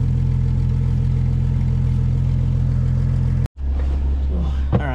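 A Jeep engine runs loud and steady with a deep low rumble while backing up on a snowy road, cutting out briefly and then returning with a rising rev as a voice speaks over it.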